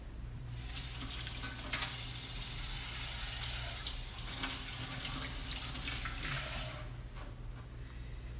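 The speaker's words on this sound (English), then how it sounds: "let me wash my hands." Hands are washed under a running tap, a steady close rush of water splashing into a sink with occasional brighter splatters as the hands move, stopping just before the end.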